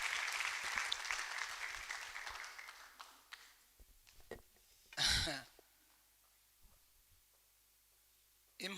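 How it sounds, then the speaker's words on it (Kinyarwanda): A church congregation's applause fades out over about three seconds and gives way to near silence, broken by a few scattered taps, a short cough and a brief noise near the end. "Babakomera amashyi"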